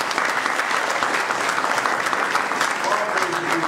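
A sustained round of applause fills a mosque gathering at Mosque No. 12 in Philadelphia, dense steady clapping from an audience with a few voices mixed in.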